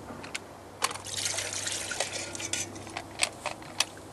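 Water pours and trickles into a pot on a Svea camping stove, with light metallic clinks and splashes against a low steady hum, close and fairly quiet.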